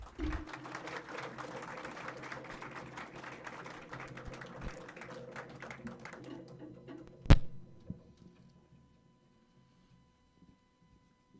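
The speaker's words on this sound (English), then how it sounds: "Please give a big round of applause to our entertainment for this morning." Audience applause at a Techtorium graduation ceremony, a steady wash of clapping for several seconds with a sharp thump near the end before it fades to near silence.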